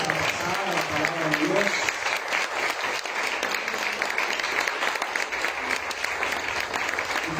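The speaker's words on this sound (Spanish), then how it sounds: "denle un aplauso fuerte al Señor" Church congregation applauding together during a worship service, a loud, steady wash of clapping that fills the room without a break, with voices mixed into the crowd noise.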